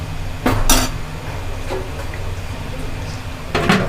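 A metal lid clinks and clatters onto a pot of homemade Dhakaiya beef biryani, giving a few sharp metallic knocks at the start and again near the end over a low room hum.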